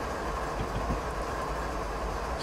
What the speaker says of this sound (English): We're not doing anything much at the moment on the train. It's coasting its way down.